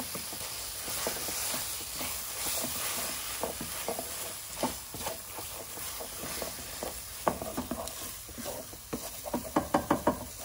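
Lobster and king prawns with garlic and chilli are stirred in a hot pan, a continuous close sizzle under repeated scraping and clattering strokes that quicken into a rapid run of knocks near the end.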